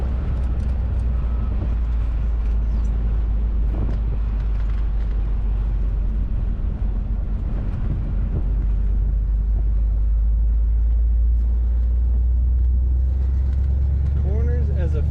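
A 1954 Oldsmobile 98 Deluxe Starfire convertible with an automatic transmission cruises along a road, its steady low engine and road rumble continuous throughout, with faint background noise.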